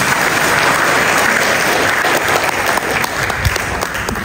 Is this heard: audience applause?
yes